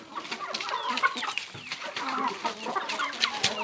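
A hen bred from a rooster crossed with a guinea fowl clucks in a farmyard, a few soft close calls over a light background of other fowl, with no talking.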